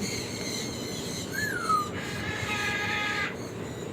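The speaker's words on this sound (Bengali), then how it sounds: "গ্রে প্যারট, একজোড়া গ্রে প্যারট রয়েছে।" A pair of grey parrots at a bird farm calls with a short sliding whistle followed by a longer steady whistled tone, heard over a low background rumble with no talking.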